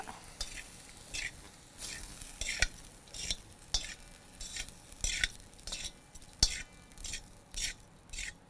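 Pepper mushroom fried rice gently tossed with two forks, making soft rhythmic scraping and stirring strokes roughly every half second with light metallic clicks against the dish, close and quiet, without speech.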